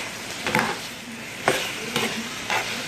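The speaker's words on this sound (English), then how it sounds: "so we're just going to give it a really good stir." Potatoes and carrots in a pan sizzling under steady frying hiss while a spoon stirs them, giving several distinct scraping strokes roughly every half second, close and clear with no talking.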